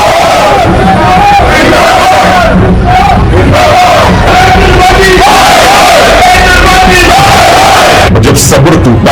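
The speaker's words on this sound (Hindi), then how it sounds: "लोगों ने मेट्रो स्टेशन के अंदर ही नारे लगाने शुरू कर दिए।" Packed protest crowd inside a metro station chanting slogans, loud and continuous with a repeating chant rhythm that echoes off the enclosed space, voices roaring together throughout.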